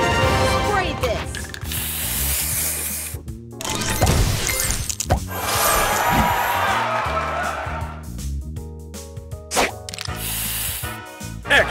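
Spray booster effect in the Match Masters mobile puzzle game during a booster clash, heard as loud hissing sprays and crashing, shattering bursts layered over bright game music for about twelve seconds.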